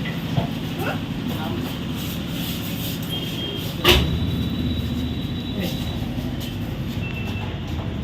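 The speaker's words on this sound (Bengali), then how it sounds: "একদম আমার কানের সাইড থেকে ট্রেনটা চলে যাচ্ছে" A train passes right beside the listener on an evening outing near Champahati, a steady low rumble of rolling wagons with a brief loud clunk midway, while people talk close by.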